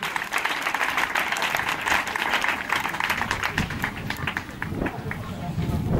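Church congregation at a Sunday service applauding and acclaiming the Lord, with steady, dense clapping and cheering voices filling the room for several seconds.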